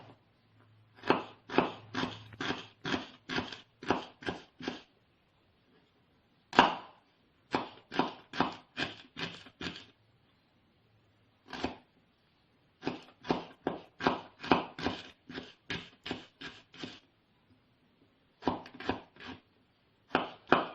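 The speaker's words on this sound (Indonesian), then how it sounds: "kita masuk ke step berikutnya, yaitu iris bawang merah dan bawang putih" A knife slices shallots and garlic on a cutting board in quick rhythmic bursts of crisp chops, in several runs separated by short pauses, close and clear with no talking.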